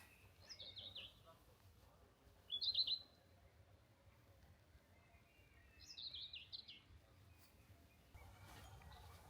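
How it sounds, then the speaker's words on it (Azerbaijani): Birds chirp in three short bursts, spaced a few seconds apart, high and clear over a quiet outdoor background at Cıdır düzü in Karabakh. "Quşların səsi cəhcə."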